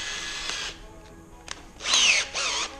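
A power drill with a larger bit cuts into a truck mod bracket in short on-off bursts, bright whining spurts of varying pitch, close and moderately loud.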